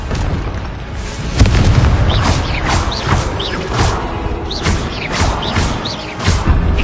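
Repeated Confringo fire-blast spell explosions in Hogwarts Legacy: loud booming bursts with crackling bright impacts, several in quick succession over a dense, continuous battle din.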